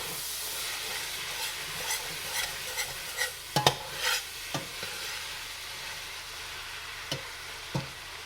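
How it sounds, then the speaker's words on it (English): Onions and celery sautéing slowly in a pot for homemade chili, with a steady soft sizzle and scattered sharp clinks and scrapes of a spoon stirring, close and unaccompanied by talk. "Want that to saute slowly."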